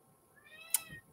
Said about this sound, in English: She is a gorgeous and very vocal calico.